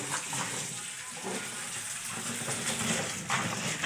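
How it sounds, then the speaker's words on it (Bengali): Drumstick stems being washed in a basket under running water, a steady close gushing and splashing that continues without a break. "এখন হচ্ছে ডাটাগুলো একটু ধুয়ে নেব।"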